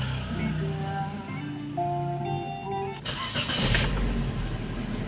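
A 2017 Toyota Vios with dual VVT-i and a P0012 check-engine fault cranks and starts, catching at about three seconds and settling into a close, steady idle.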